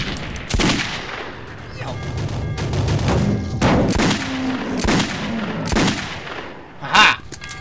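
Gunfire in the Metro 2033 video game, a series of sharp loud shots spaced irregularly over a rumbling background, with a burst of heavier blasts near the end and no talk.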